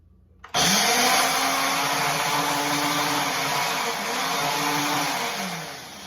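A blender starts abruptly and whirs loudly and steadily, its motor pitch dipping and rising as it chops through fruit, then easing slightly toward the end.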